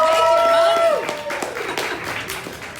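A studio audience cheers and applauds in a loud burst of clapping and whoops that starts at once and fades over a few seconds.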